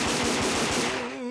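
Rapid cartoon pistol shots crack out in a quick rhythmic burst, several close, loud pops in a row fired from show pistols loaded with blanks, fading slightly at the end.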